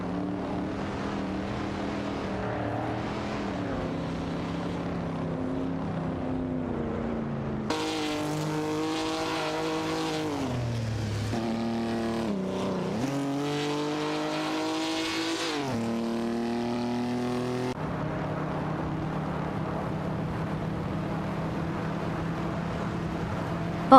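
Engines roar continuously as race cars jostle and overtake in an AI-driven racing video game, with the pitch rising and falling through gear changes and one car sweeping close past midway.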